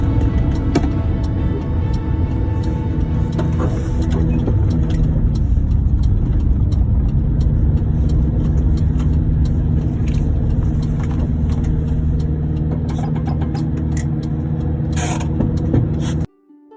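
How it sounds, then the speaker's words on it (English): A VW bus engine idles fast at a fairly high, even drone, loud and close, with a faint rattle over the constant hum until it cuts off. "I hear it too, is that I am idling a little fast"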